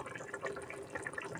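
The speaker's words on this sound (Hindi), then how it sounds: "जो मसाला का धुला पानी था ना ये, इसको डाले दे रही हूँ" Masala wash water is poured into a pan of frying stuffed eggplant, giving a continuous close splashing gush with faint sizzle underneath and no talk.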